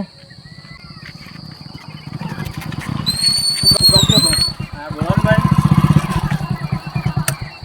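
A motorcycle engine runs close by on a rural road, its throbbing rumble swelling and easing as it revs, with a brief dip in the middle and faint voices in the background.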